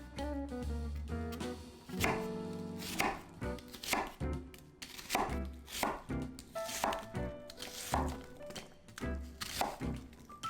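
A knife chopping a yellow onion on a cutting board in quick, uneven runs of crisp thunks, close and distinct, with small pauses between bursts.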